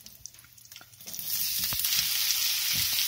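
Onions fry in hot oil with fennel seeds and curry leaves, a bright steady sizzle that swells loudly after a quieter start, with a few stirring clicks, no voices.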